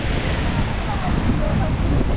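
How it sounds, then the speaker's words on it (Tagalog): Strong wind roars into the microphone over the wash of crashing waves on the beach at Boracay, a loud, continuous rumble with no pauses. "lakas ng hangin, no? Lakas ng alon."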